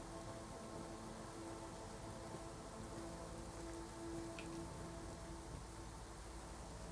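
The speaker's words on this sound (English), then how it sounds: "The weather mod I use, though, definitely does not help me because the rain is loud" Steady rainfall from a weather mod in the video game Skyrim, a continuous dense patter of drops with a soft low rumble underneath, even and unbroken, with no voices.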